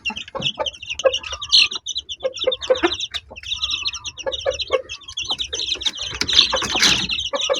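Newly hatched chicks peep and chirp busily and close by while feeding on corn bran and mixed feed, rapid high calls coming in clustered bursts with soft pecking noises.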